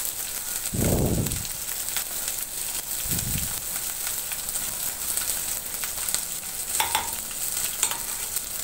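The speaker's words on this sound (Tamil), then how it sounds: "ஆட் பண்ணிவிட்டு நல்லா வதக்கி விட்டுட்டு" Chopped shallots and garlic sautéing in a pan for a curry leaf kulambu, with a soft continuous sizzle, a couple of low thumps as ingredients are stirred, and a few light spoon taps.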